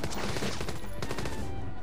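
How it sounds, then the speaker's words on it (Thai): Rapid gunfire in the zombie survival game Garena Undawn: a dense, loud burst of overlapping shots that rattles continuously for about two seconds, with no pauses between rounds. "ทำไมมึงยิงปืนมันไม่ขึ้นศูนย์เลยวะ"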